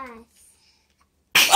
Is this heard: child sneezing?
yes